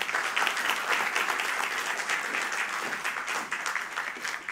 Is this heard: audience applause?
yes